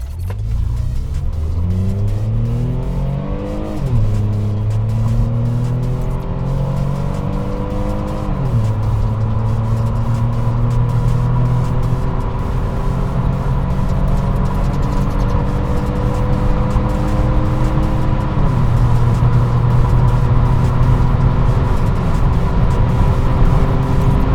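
An Opel Vectra C 2.8 Turbo in a 0-100 acceleration run: a loud, close engine revs steadily upward, drops at each gear change, then climbs again through several gears without pause.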